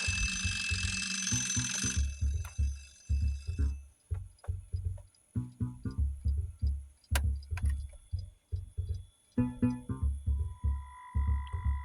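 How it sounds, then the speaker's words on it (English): A ringing alarm clock with a bright, buzzing bell tone at the start, then a repeated rhythmic mechanical pulsing that continues steadily throughout. "we can hear some alarm clock that I'd recorded on track 1"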